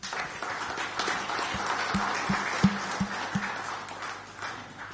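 Audience at the CFU Congress open session applauding a panelist, a steady crowd of clapping hands with a few louder individual claps and low thumping knocks standing out partway through.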